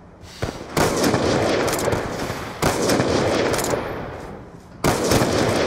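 Rapid automatic gunfire from the Call of Duty: Black Ops 2 video game in a 1v1 match, loud sustained bursts in three long volleys separated by brief pauses, with no talk over them.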